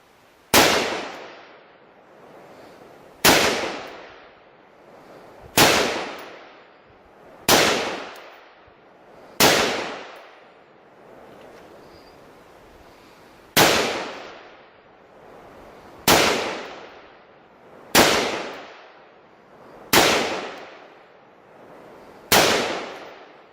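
Ten heavy, evenly spaced shots of 5.56 green tip NATO armor-piercing rounds striking a composite bulletproof barrier panel, each a loud sharp crack with a short decaying ring, about two and a half seconds apart.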